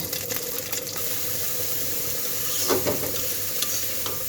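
Green chillies sizzle in hot oil, a steady close hiss under a few clinks near the start and a brief burst of stirring around the middle.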